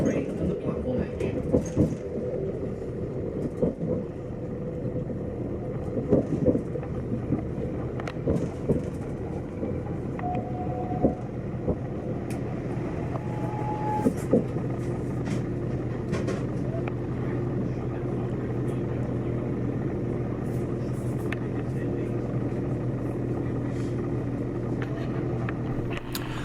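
A diesel train idles and rumbles at the Sellafield platform on the line past Barrow, with a steady low drone, occasional clanks and short tones, while people talk nearby.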